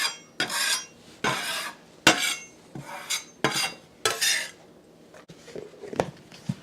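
A utensil scraping up leftover Italian cream cake batter from a bowl, a series of short, rhythmic scrapes and swipes, about seven strokes, close and clear, then softer scattered taps, with no talking.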